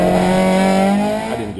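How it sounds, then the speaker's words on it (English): A Honda CRX with a failing, smelly clutch revs hard in a burnout, its engine drone steady and loud with a sustained tire squeal that tapers off near the end. "I was trying to do a burnout."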